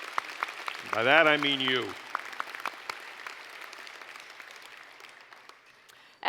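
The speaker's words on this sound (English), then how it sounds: "May we have a round of applause, please, for the supporters of this wonderful organization" Audience applause at an awards evening honoring an organization's supporters: a steady, fairly faint patter of clapping persists throughout, and a voice speaks over it near the start.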